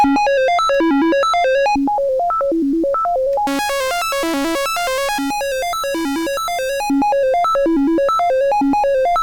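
Retro video game style synthesized tones, bright and buzzy like a triangle wave, play a fast looping arpeggio melody at steady volume, with a brief section of extra high layered notes, no voices.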